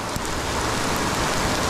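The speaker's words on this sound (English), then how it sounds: "It's starting to rain good now." Steady rain falling outdoors, a dense, even hiss of drops spread across the whole stretch with no voices over it.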